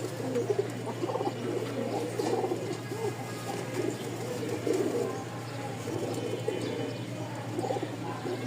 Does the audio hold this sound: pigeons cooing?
yes